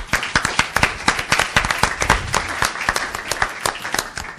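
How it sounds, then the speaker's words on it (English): Applause for contestants at a competition, a room of people clapping steadily with sharp individual claps throughout, close and lively, without speech. "another round of applause"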